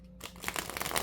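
A thick-cardstock deck of playing cards is shuffled in one quick, crisp burst of riffling and flapping cards, close up.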